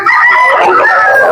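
A rooster crows loudly and close by at a gamefowl market, one long drawn-out call that fills the moment.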